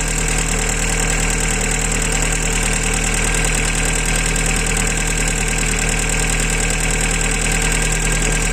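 A Vauxhall VX220 sports car engine idles steadily after a fuel filter change, a loud, close, even mechanical drone with a fine rattly texture and no voices.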